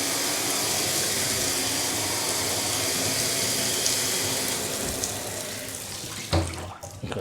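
Cold water running from a household tap into a sink during a home inspection, a steady close rushing stream for about five seconds that tapers off, ending with a few clunks as it is shut.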